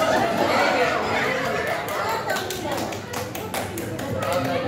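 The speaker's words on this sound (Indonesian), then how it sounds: "Baik, tepuk tangan sekali lagi untuk mereka" Audience at an Islamic motivational talk claps in dense, sustained applause with scattered chatter and a few laughs mixed in, steady and fairly loud throughout.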